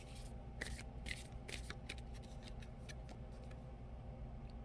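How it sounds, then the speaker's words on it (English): Soft papery riffling of oracle cards being shuffled in quick bursts over a steady low background hum. "Let me shuffle this way."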